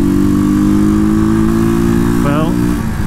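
A Janus Phoenix 250 motorcycle cruises at freeway speed, its steady engine drone and wind roar running continuously and loud from start to finish, with a brief rising whistle-like tone near the end.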